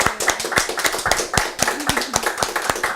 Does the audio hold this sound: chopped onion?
no